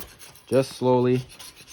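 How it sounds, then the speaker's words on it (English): Two short rasping strokes scrape blue head gasket residue off an engine block mating surface, close and fairly quiet, alone without talk. "You're scraping basically like the blue gasket that comes on off the head gasket."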